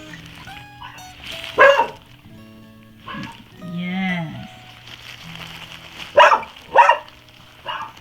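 A sound-sensitive puppy with a luxating patella lets out several sharp yips and barks between high whimpering whines, close by, with a brief spoken word in between.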